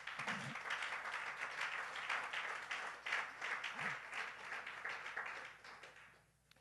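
Church congregation clapping and cheering loudly in sustained applause, dense and continuous, with scattered voices calling out, fading near the end.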